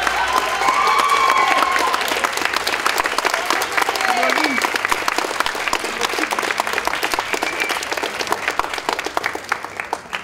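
An audience at a school event applauds a music group, a dense round of clapping with a few cheers that gradually thins out.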